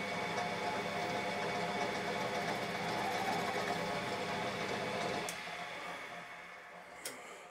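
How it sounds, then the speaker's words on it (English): A workshop lathe, used while repairing a BSA Wedge Tank seat, is bumped on and whirs with a steady mechanical hum before spinning down, ending with a faint click. "I'm just going to give the lathe a bump and mark that piece where it is"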